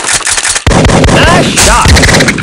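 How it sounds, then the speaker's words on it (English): Loud, booming gunshots from the Big Buck Hunter Pro arcade hunting game hit hard up close, one sharp blast followed by more heavy shot sounds and a brief whirring game effect. "Nice shot."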